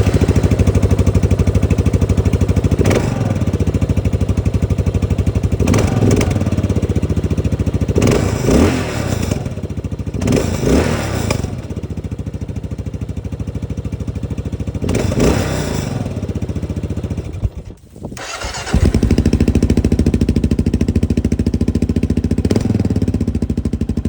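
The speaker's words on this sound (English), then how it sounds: "I'm gonna play a clip real quick of just what it sounds like compared to the stock exhaust." Kawasaki KLR650 Gen3 single-cylinder motorcycle fitted with an aftermarket exhaust, running loud and steady close by with repeated throttle blips and rises, a brief drop near the end before the engine note returns.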